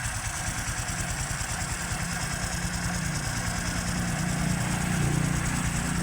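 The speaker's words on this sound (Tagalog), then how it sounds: "So karon nato paminaw ng andar no, mao ni ang andar no." A Honda XRM 125 Fi motorcycle engine, rebuilt twice yet still faulty, idles steadily nearby with an even low thrumming pulse that swells slightly toward the end.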